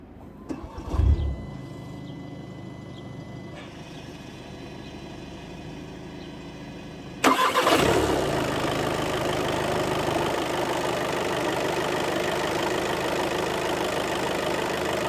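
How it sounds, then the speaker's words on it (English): A 2017 Volkswagen T-Roc TDI 4Motion with a 2-liter four-cylinder turbo diesel cranks and starts midway, then settles into a steady, close, rumbling idle after some quiet cabin handling noise. "Hear that 2-liter turbo diesel 4-cylinder power to life."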